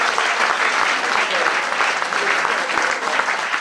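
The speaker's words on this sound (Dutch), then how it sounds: "En van ons allemaal een daverend applaus." Dense, steady applause from a large audience at a youth carnival-speech (buutte) championship awards ceremony, loud and continuous throughout with individual claps standing out.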